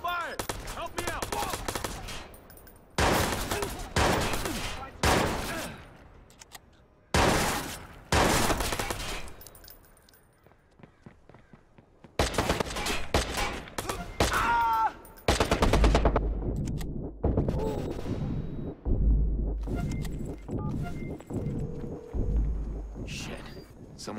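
Bursts of gunfire during a Watch Dogs video game firefight, loud volleys separated by short pauses, with characters shouting and talking between and over the shots.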